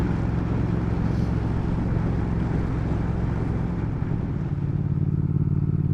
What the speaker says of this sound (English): very impressive little motorbike. Well, not so little at 1200cc